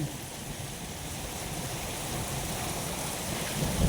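Heavy rain pours down in Riyadh just after a hailstorm, a dense, steady roar of water that stays loud and continuous throughout, with no voices.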